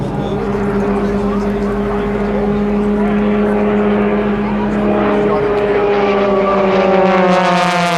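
Propeller airplanes fly past at the 2010 Boston-Portsmouth airshow, a loud, continuous engine drone with harmonics that slowly shift in pitch as the aircraft move, joined by faint crowd or announcer voices.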